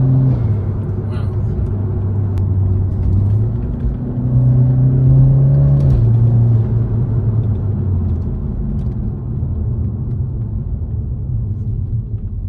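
BMW 335i with the N54 engine and a new air intake, revving as a deep, rising engine drone with a pitch swell in the middle, heard close and steady under people talking.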